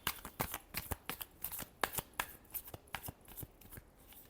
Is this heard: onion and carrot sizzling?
no